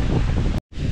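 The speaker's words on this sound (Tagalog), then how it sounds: "mahangin para tayo nasa tabing dagat" Strong seaside wind buffets the microphone with a loud, continuous roar, broken by a brief dropout of silence before the gusting resumes.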